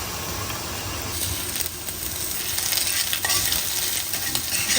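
Onions frying in a pan while being stirred, giving a loud continuous sizzle with scraping stir strokes close up, no talk over it.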